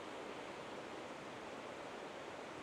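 Steady, even rush of river water flowing down toward a waterfall in the Benguet mountains, a constant broadband hiss with no breaks, fairly soft and with no voices.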